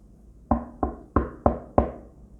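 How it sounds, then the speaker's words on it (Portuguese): Five firm knocks on a door, close and loud, evenly paced over about two seconds, each a sharp thud that quickly dies away, with no voices. "ele chega e bate a porta, ó"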